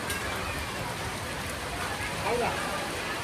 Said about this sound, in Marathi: खूप जोरात पाऊस आहे इकडं.